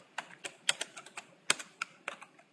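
Computer keyboard keys clack in an irregular burst of about a dozen crisp taps, close and clear, with no voices over them.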